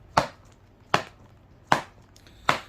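A baseball is thrown four times into a stiff hard-type felt leather infielder's glove with an I-web being broken in, each catch a sharp, close leather smack at a steady interval with quiet between.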